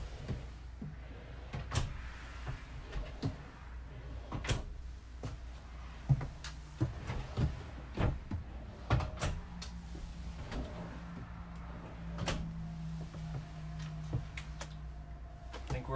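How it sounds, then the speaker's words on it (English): Easy-close drawers and cabinets in a 2020 Coachmen Encore 325SS Class A gas motorhome shut one after another, a series of soft thumps and muted clicks with brief sliding rumbles, close by in a quiet interior. "all the easy close drawers."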